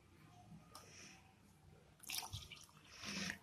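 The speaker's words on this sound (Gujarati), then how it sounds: "એમાં આપણે થોડું પાણી ઉમેરીશું" Water added to a mixture of besan and plain yogurt in a bowl for a cluster bean curry, soft wet splashes and drips that grow louder near the end, close and quiet, with no talk.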